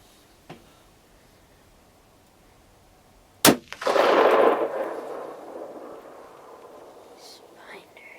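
A single sharp rifle shot cracks out during a late-season doe hunt, followed by a long rolling echo that fades over several seconds; a faint click comes earlier, and hushed whispering sits quietly around the shot.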